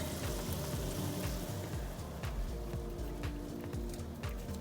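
A steady, crackling rolling boil of maple sap in an evaporator, dense bubbling and popping close by, with no voices.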